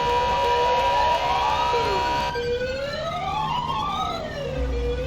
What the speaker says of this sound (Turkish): Ambulans da geldi.